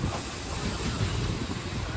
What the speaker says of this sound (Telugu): మన ట్రైన్ వచ్చేసి ప్లాట్ఫామ్ 1కి అయితే వచ్చేసింది